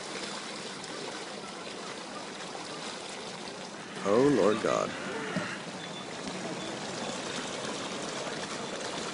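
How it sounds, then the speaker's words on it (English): Floodwater gushes up out of the ground near a park in Japan during earthquake aftershocks, a steady rushing flow that runs throughout. Partway through, a person briefly exclaims over it. "Near our park, the water's gushing out everywhere."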